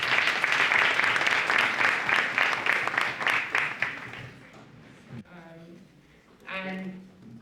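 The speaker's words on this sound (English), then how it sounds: "So thank you very much. Round of applause." An audience at a finance leadership evening applauds steadily for about four seconds, then the clapping thins out and a voice begins speaking.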